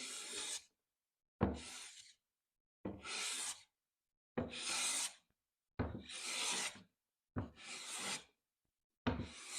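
A Veritas smoothing plane skewed across a wooden board gives seven even rasping strokes in a regular rhythm, each a short bright swish separated by silence, close and clear with no talk.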